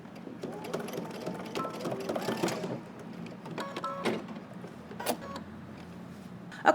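A home sewing machine stitches along the welt pocket of a jacket to tack it down, its motor whirring in short uneven bursts with small mechanical clicks between runs, close and fairly quiet.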